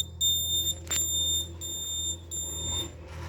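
Electronic alarm on an Arduino-based coal mine safety system with multiple sensors, triggered by temperature passing 40 degrees: a high, steady beeping repeating in several evenly spaced bursts over a low background hum, fairly close.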